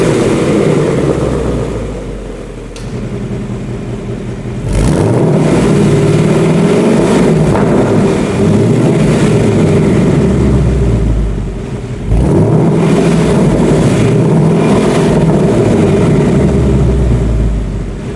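Ford Mustang Bullitt V8 with an active valve exhaust revs loudly in two long, rising blasts that each settle back to a deep, rumbling idle, close up and with no voices.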